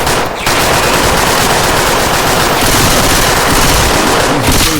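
Sustained automatic gunfire in the video game Left 4 Dead 2, loud and dense, with rapid overlapping shots filling nearly the whole stretch and only a brief gap near the start.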